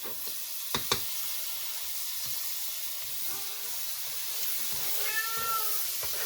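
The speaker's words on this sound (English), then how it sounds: "That's Prissy you hear in the background meowing away." A house cat named Prissy meows faintly in the background of a kitchen while an omelet sizzles in a pan, with a couple of sharp clinks early on.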